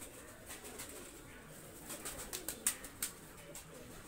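A female Prince Kamagar pigeon gives low, muffled coos against steady background noise, while a run of sharp clicks and taps comes near the end.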